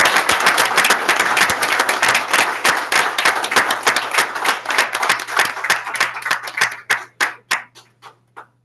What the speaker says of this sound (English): Let's give a round of applause for Karen Duncan.